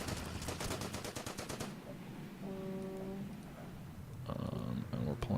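Machine gun fire in the strategy game Order of Battle: Pacific, with US Marines facing island gun posts: a rapid, loud rattling burst opens, followed by sustained tonal horn-like notes and another dense burst.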